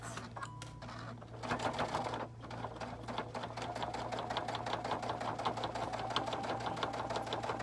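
Sewing machine stitching straight across a fabric seam on a soft toy block, a fast, steady mechanical rattle that starts after a brief pause and runs continuously, fairly close.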